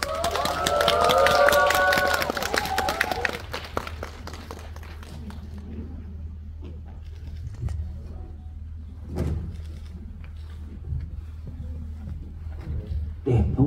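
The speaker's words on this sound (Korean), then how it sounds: "큰 박수로 환영 부탁드릴게요." An audience in a cinema applauds to welcome guests at a film screening Q&A at Lotte Cinema Konkuk University. Brisk clapping under a loud voice fills the first few seconds, then fades to quieter room noise and scattered sounds.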